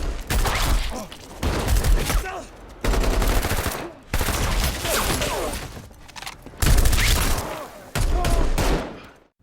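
Gunfire fills an action scene in a mafia crime film, with heavy bursts of automatic fire and loud shots coming in repeated loud blocks separated by brief drops to near quiet.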